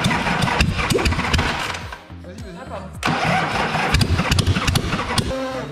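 A 1979 Harley-Davidson Sportster XLH with the exhaust removed cranks and fires in loud, sputtering bursts with a short pause between attempts, while people talk close by.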